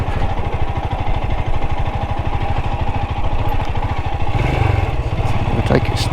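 A Royal Enfield Himalayan 411 motorcycle engine thumps steadily and loudly as the bike climbs a rough, sandy trail, with a rapid, even pulse throughout and brief clatter near the end.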